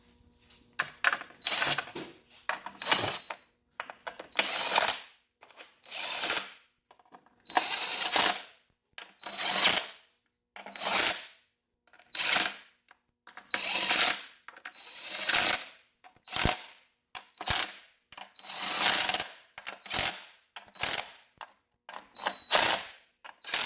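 A ratchet wrench tightens intake manifold bolts on a J-series engine, its clicking coming in repeated bursts of quick strokes separated by short pauses. The clicks are close and crisp, with no talking.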